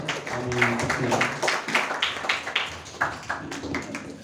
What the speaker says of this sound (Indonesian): Untuk itu kita sambut dengan tepuk tangan yang meriah Mas Rizky Tanda Saputra.